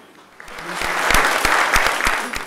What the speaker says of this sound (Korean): 고용석 사무관님께 우리가 상당한 박수를 보내야 됩니다